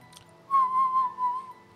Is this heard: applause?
no